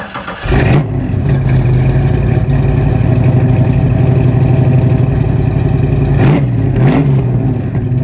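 A Mustang GT500 Eleanor engine rumbles loudly and steadily, with sharp revs near the start and again around the six- and seven-second marks.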